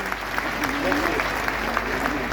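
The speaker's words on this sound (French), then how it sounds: "Un grand applaudissement pour mes invités." Applause from a circus audience welcoming guests, a steady wash of clapping with faint voices mixed in.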